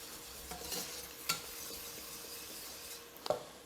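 Spoon stirring a thickening blanquette sauce in a pan, soft scraping strokes with a faint sizzle and a couple of sharp utensil clicks against the pan, close and quiet, no talking.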